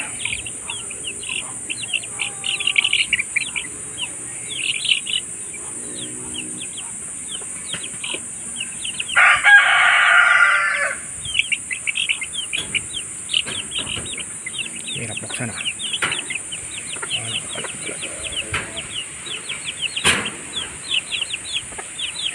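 A flock of chicks cheeps constantly in rapid high peeps, with occasional clucks from hens and a short burst of louder squawking midway, all fairly close.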